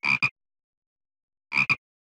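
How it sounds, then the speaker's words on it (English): Poison arrow frog from Central and South America croaking in two short double-pulsed calls, each a pair of raspy bursts separated by silence, close and clear with no other sound. "Poison arrow frog, which lives in Central and South America."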